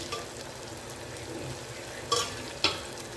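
Tomatoes cook down in a pan with a low, steady sizzle, broken near the end by two brief scraping stirs of a utensil; no one speaks.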